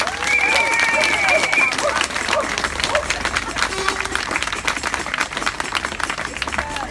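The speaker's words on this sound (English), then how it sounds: "So give yourselves another massive round of applause." Outdoor crowd at a badger cull protest march in Oxford clapping and cheering after a speech, dense broadband applause lasting throughout with scattered whistles and voices mixed in.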